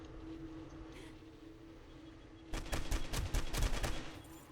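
Rapid bursts of gunfire from the zombie survival game 7 Days To Die, Darkness Falls mod, break out after a quiet stretch with a steady hum, a dense run of loud shots lasting about two seconds.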